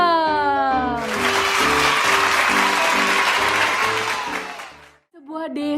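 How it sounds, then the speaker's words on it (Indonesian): A group of kindergarten children claps in a dense, steady burst lasting about four seconds over a tonal background, then it stops abruptly and a voice follows. "Tepuk tangan dulu dong."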